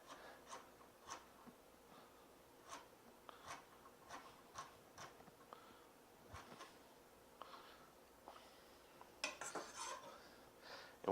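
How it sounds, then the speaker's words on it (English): A knife slices four garlic cloves on a cutting board, making a steady run of faint, light taps in an irregular rhythm that thickens into a brief flurry near the end. "we'll take all 4 cloves of garlic and slice them this way"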